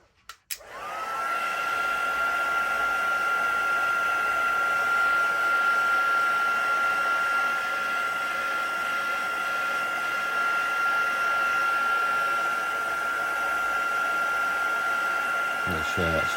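A craft heat tool blows on a card during embossing, starting with a click and then running as a steady, loud whooshing whine with a high tone until it clicks off.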